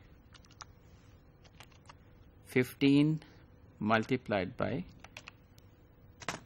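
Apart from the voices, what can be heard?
typing on a computer keyboard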